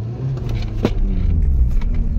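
Honda Accord engine pulling in first gear, a steady close low rumble of the car in motion over a couple of seconds, no talk.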